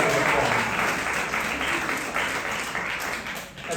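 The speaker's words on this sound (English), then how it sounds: "Give yourself a round of applause." Audience at a Queens College reception for Jewish American Heritage Month gives sustained applause, many hands clapping densely and loudly before tapering slightly toward the end.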